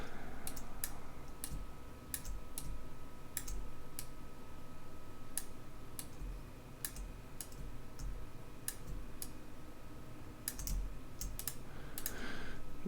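Fingers typing on a computer keyboard, irregular bursts of sharp key clicks spread across the stretch, close but fairly quiet over a faint steady hum, no talking.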